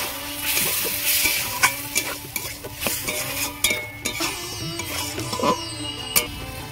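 Chicken cooking in a pan with a little water, a steady bubbling sizzle with frequent spatula scrapes and metal clinks against the pot, close and fairly loud.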